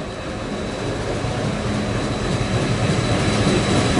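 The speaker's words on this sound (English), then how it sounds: "We have a light engine movement passing platform 1." A light engine locomotive rolls past a station platform with a heavy, steady rumbling roar that stays loud and close and builds slightly throughout.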